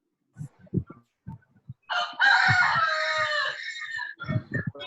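A chicken, a rooster, lets out one long, loud crow close by, lasting about two seconds, with scattered short clucks and knocks before and after.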